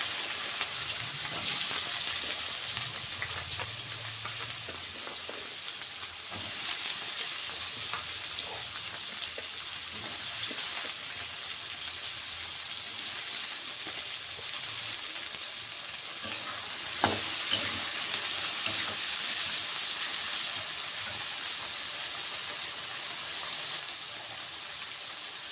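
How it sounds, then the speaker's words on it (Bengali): Carrots and beans frying together in hot refined oil in a heated kadai, a steady close crackling sizzle throughout with occasional stirring scrapes and clinks. "এখন আমি গাজর আর বিনটাকে একসাথে ভেজে নেব।"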